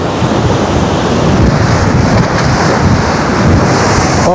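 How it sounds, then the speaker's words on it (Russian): Storm surf pounds a reinforced-concrete beach shore at Anapa on the Black Sea, a loud, continuous roar of crashing waves mixed with heavy wind buffeting the microphone, with no voices. "какие здесь волны бьются о железобетонный берег этого пляжа"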